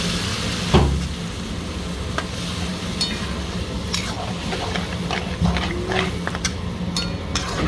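Spiny gourd frying with spices in a pan, a constant close sizzle with a low rumbling undertone and scattered clicks and scrapes of stirring throughout.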